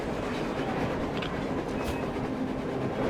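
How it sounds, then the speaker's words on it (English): Train rolling past in the post-apocalyptic shooter Metro Exodus, a continuous loud rumble with rhythmic clickety-clack from the railcar wheels and a brief metallic squeal, no voices. "A train! A damn train on the surface!"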